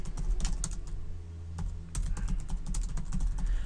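Rapid clicking of a computer keyboard as comments are typed into PHP code, a close, steady stream of keystrokes with a brief pause midway and no talking.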